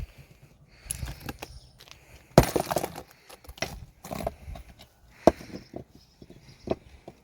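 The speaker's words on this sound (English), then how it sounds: "they break easy like that because it's full of quartz, and it's the quartz shattering, not the andesite" Quartz-filled andesite rock from a small gold mine cracks and shatters in several sharp, close snaps, scattered among scraping and handling noises, with no talking.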